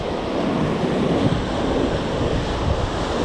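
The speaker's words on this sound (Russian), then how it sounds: "волна, она сегодня с одной стороны за меня, а с другой стороны ветер очень сильно мешает" Sea surf and strong wind roar together in a steady, dense wash, with gusts buffeting the microphone throughout; no voices.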